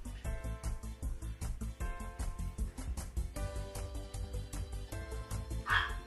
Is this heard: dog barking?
yes